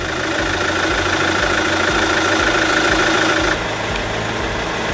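A 2007 Chevrolet Captiva 2.0 diesel engine idles steadily and close by, a continuous low rumble with faint knocking, easing slightly in tone near the end.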